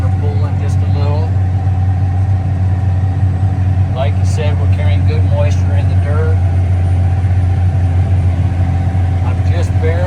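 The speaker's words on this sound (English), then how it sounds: "Listen to the tractor." A tractor engine drones steadily under load as it pulls a blade through moist dirt, a loud continuous low hum throughout while someone talks over it.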